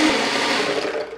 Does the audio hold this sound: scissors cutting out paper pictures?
no